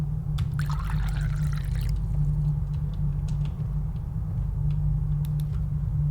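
A water cooler in the video game Absurd Story pouring water in a brief trickling gush near the start, then quiet drips over a loud low hum of background game audio.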